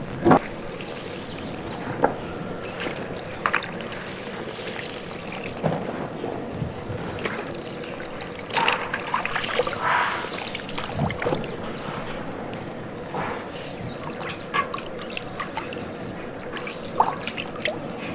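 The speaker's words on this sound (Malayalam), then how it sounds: "ഇപ്പൊ വെള്ളത്തിലിട്ട് കഴുകാൻ പോവാണ്" Cut colocasia and stems are washed in water, with faint sloshing, soft splashes and trickling in a quiet setting. Occasional light knocks come through, and no one talks.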